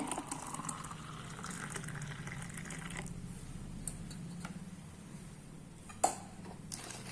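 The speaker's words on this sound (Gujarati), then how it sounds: "હવે આપણે ગ્લાસ ભરીશું." Homemade sugarcane-style juice, made without sugarcane, is poured into a glass: a soft, steady gush that thins to a quieter trickle, with one sharp glass clink near the end.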